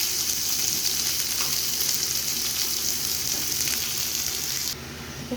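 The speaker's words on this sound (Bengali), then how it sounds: "তেলটা গরম হয়ে গেছে, আমি পেঁয়াজগুলো দিয়ে দিব। পেঁয়াজটাকে ভেজে নেব।" Onions dropped into hot oil in a pan, a steady bright sizzle that holds evenly and then drops to a quieter hiss near the end, close up, with no talking.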